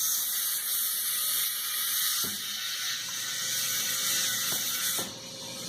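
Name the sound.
air tool used on tire valve stem while mounting a tire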